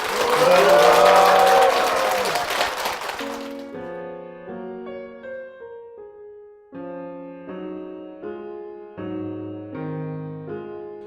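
Applause from a church congregation fills the opening three seconds, loud and dense, then gives way to organ or keyboard music playing sustained chords.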